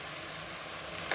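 Turmeric, chili powder and garam masala sauté in a pan for semiya pulao, making a soft, even sizzle with a couple of faint stirring clicks near the end.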